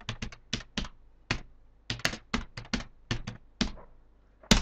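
A computer keyboard typed on to enter a search query, giving a steady series of distinct, fairly close key clicks in uneven rhythm, about twenty strokes with brief gaps and no voices.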